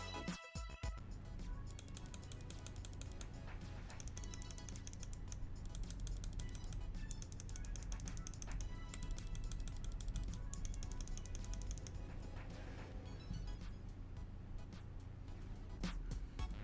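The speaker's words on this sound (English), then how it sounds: "The side buttons feel and sound super crispy." Glorious Model O gaming mouse buttons are pressed for a sound test, giving a steady, quiet stream of rapid, crisp clicks repeated over and over throughout.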